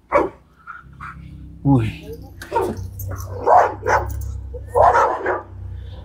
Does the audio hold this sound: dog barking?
yes